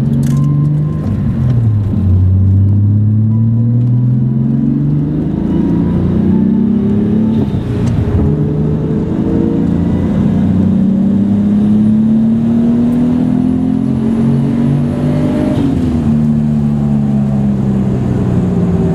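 A modified 500 HP Toyota MK3 Supra with a 7MGTE engine revs loudly and close, its pitch climbing and falling through repeated gear-like sweeps as it accelerates, with no talk over it.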